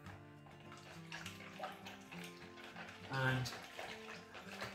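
Yeast being stirred into a small amount of water for crusty Italian bread dough gives soft sloshing and swirling liquid sounds, fairly quiet and close, with a brief louder splash near the end and a short spoken word.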